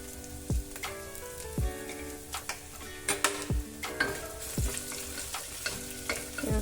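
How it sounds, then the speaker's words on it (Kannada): Chopped ginger sizzles in a hot pan while being stirred for broken wheat khara pongal, with steady frying crackle and repeated scraping clinks of a spoon against the pan; soft background music runs underneath. "ಸ್ವಲ್ಪ ಫ್ರೈ ಆಗಲಿ."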